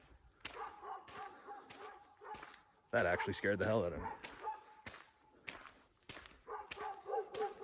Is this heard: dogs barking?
yes